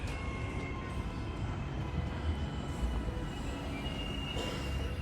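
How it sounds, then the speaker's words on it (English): Steady ambience at Puhinui train station in Auckland, with a train rumbling and humming continuously at moderate distance and faint squeals over the low roar. No one talks. "This is the Puinui train station."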